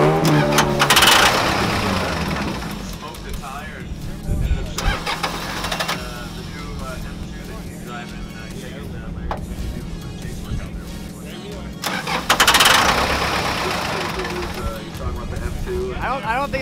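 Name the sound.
car engine cranking, trying to start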